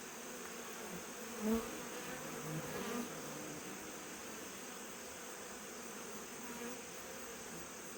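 A steady, low insect drone of many honey bees buzzing together at a hive, fairly close, with a faint constant hiss behind it.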